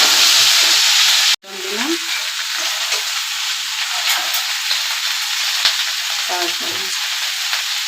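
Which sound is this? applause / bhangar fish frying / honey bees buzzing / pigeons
bhangar fish frying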